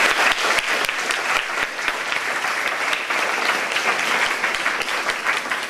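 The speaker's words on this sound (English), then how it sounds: "give them a big round of applause" Audience applause for musicians at a music concert, a dense, steady wash of many hands clapping, loud and continuous throughout with no speech over it.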